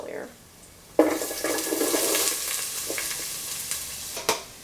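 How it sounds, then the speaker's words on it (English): Garlic and onions dropped into olive oil in a stock pot, quiet at first and then a sudden loud sizzling hiss that holds steady with a few scrapes and clinks near the end, with no voices. "bring a couple of tablespoons of olive oil to a bare simmer and just add your garlic and your onions"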